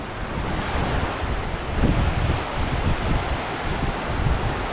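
Ocean waves wash onto Prachuap Khiri Khan beach at sunrise as a steady broadband roar mixed with wind buffeting the microphone, with slight swells in loudness and no voices.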